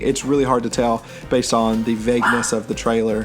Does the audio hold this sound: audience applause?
no